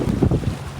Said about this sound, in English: we are on the jet ski